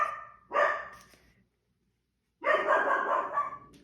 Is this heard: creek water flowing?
no